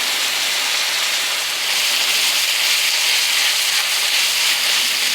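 Garlic cooks in a hot pan for sloppy joes, a steady, loud, even sizzle and hiss that holds unbroken throughout without voices.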